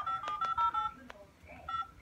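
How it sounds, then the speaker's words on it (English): A mobile phone keypad sounds a quick series of dialing tones: several short beeps in a rapid burst, a pause, then a few more, fairly close and clear. "Alright, let's call a random number."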